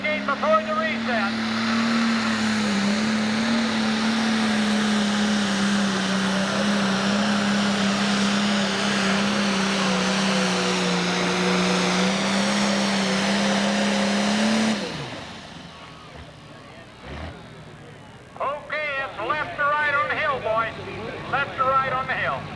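A pulling tractor at the 1995 Fisher, Illinois tractor pull roars loudly in one long sustained pass lasting about fifteen seconds, then cuts away to crowd noise while an announcer talks over it.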